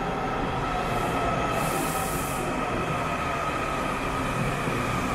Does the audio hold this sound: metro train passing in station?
yes